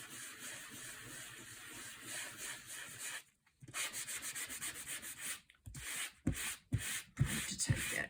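Glue is scrubbed off paper with close, rhythmic rubbing strokes, broken by a few short pauses and a quicker patch of scrubbing near the end.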